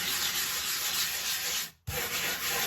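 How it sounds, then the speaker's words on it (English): Half a potato scraped around the bottom of a rusty cast iron skillet, giving a steady, close gritty rubbing sound. It stops briefly, then resumes. "We're just gonna scrape it around, and it's gonna end up making a brown paste."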